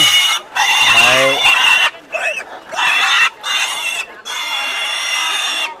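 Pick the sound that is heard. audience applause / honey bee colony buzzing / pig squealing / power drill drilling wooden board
pig squealing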